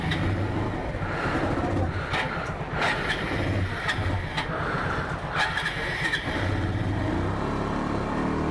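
Several motorcycles idle and rev together after being started for a cold, rainy high-altitude ride toward Gurudanmar Lake, a steady dense engine drone with bursts of throttle throughout, close by and loud.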